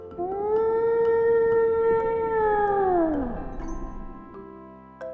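A single long, tonal whale call holds steady for about three seconds, then bends downward and fades. It is loud and alone, with a faint lingering tail.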